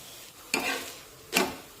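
Cabbage paratha cooks on a pan, giving two short bursts of sizzling and scraping that are close and moderately loud, separated by a quiet hiss, with no talk.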